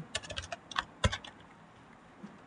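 A cluster of quick computer keyboard key presses near the start, ending in one firmer keystroke like Shift+Enter, then quiet room tone.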